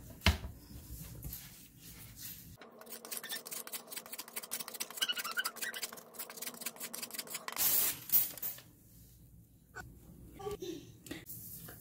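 Carrot rubbed against a grater for pikliz, Haitian pickled slaw: a fast, even run of scraping rasps for several seconds at close range, with quieter handling noise before and after.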